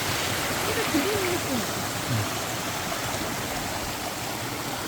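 A small mountain valley stream flows at a summer campsite, its steady broadband rush of water filling the scene evenly throughout, with faint voices briefly audible beneath it.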